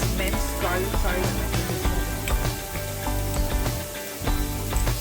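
Minced garlic sizzles in a hot pan while spaghetti and meatballs are being cooked, a dense, steady crackle with clattering and stirring on top and no voices.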